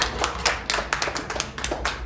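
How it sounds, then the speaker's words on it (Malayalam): An audience claps in irregular bursts of crisp slaps at a cooking competition, a modest group applauding briefly, close and fairly loud with no talking over it. "നല്ലൊരു കൈയടി എല്ലാവരും"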